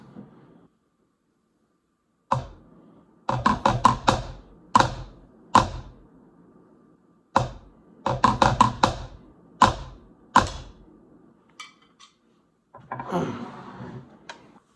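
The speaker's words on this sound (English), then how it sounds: "You still want it to sound like a flam." Crisp snare drum flams in short clusters, each hit with a tiny grace note ahead of it, played alone with brief pauses between groups.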